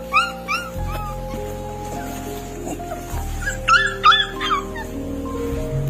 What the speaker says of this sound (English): A desperate mama dog was begging passersby to help her